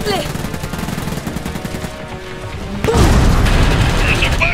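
Gunfire and turret fire from the real-time strategy game Iron Harvest, with rapid machine-gun bursts and booms under in-game unit voices, growing louder and denser in the second half.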